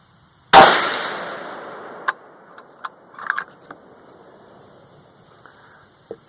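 A 450 Bushmaster rifle fires one 240-grain XTP handload over 41 grains of Lil'Gun powder: a single loud, sharp shot with a trailing decay, followed by a few small clicks and handling noises.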